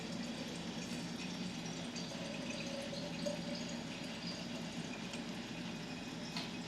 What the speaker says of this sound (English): And then you're going to fill up the jar with filtered water.